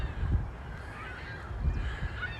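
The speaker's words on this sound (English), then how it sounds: "See the geese" Geese honk near Wascana Lake in Regina in early April, a few faint calls out in the open under low wind rumble.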